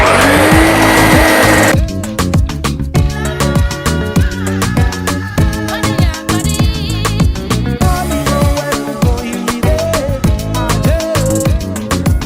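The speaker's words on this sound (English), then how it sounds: "Yeah, it's definitely a vacuum engine in here." A YT6702 dethatcher vacuum engine working on a dewy putting green, a loud close engine note that pulses and wavers unevenly, with repeated clattering and whining surges throughout.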